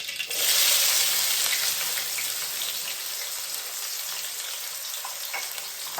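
Onions frying in hot oil with mustard, cumin and fenugreek seeds, a loud close steady sizzle that surges when they hit the pan and then settles to a continuous hiss with a few faint pops and stirring sounds.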